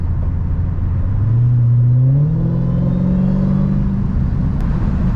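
Dodge Hellcat in sport mode, its engine revving up through a rising, steady roar that climbs in pitch and holds loud and close, with no talk over it.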